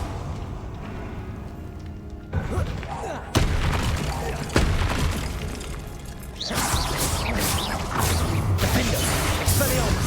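Bombarda and Confringo explosion spells cast in a Harry Potter video game: several heavy booming blasts and crashes land in quick succession over dense battle noise, with voices in the mix.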